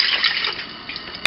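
Water pours steadily into a pot holding rice and coconut milk, a continuous close splashing stream lasting just over a second.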